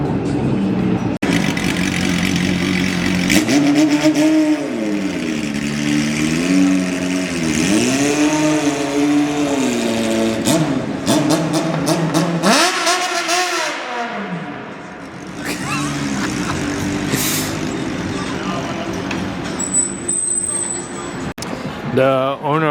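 A Toyota JZX car's engine revs repeatedly, rising and falling in pitch with a strong low rumble, loud and close, then drops briefly before revving again, while someone talks over it.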